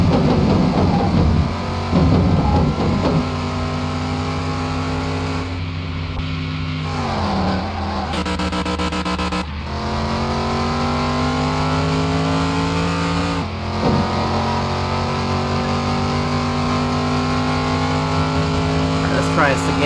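A car engine that seems to be struggling revs loudly while being driven, holding strained steady tones that drop out and climb again several times over about twenty seconds, with a person talking over it.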